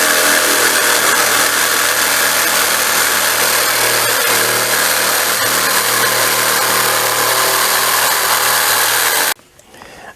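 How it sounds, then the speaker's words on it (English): A jigsaw cuts through oak or marine plywood for a step stool, a loud, continuous buzzing rasp close by that stops abruptly near the end. "Then I'll cut the remainder out here with the jigsaw."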